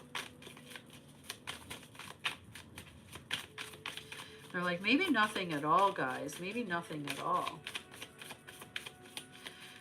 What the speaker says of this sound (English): New cards, they shuffle differently.